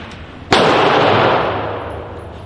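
A single loud gunshot cracks sharply at an indoor gun range, followed by a long echoing boom that slowly fades over about two seconds.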